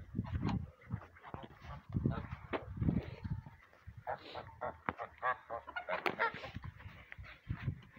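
Geese and domestic fowl honking and calling in a rural poultry yard in winter, repeated bursts of honks mixed with clucking, close and fairly loud, interleaved with people talking.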